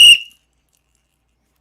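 A single short, sharp whistle blast, loud and shrill, cut off quickly and followed by silence.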